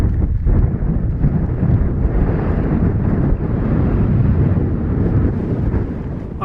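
Strong, steady wind gusts roar and buffet the microphone high in a big desert valley, with no voices, a loud continuous rumble throughout.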